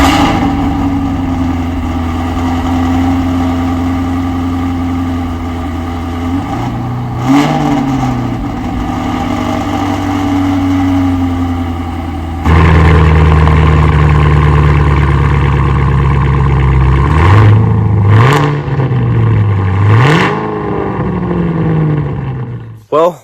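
A twin-turbo Mustang with a tube front end idles with a deep throaty rumble, then blips the throttle in several sharp revs that rise and fall, loud and close, with a short louder stretch midway.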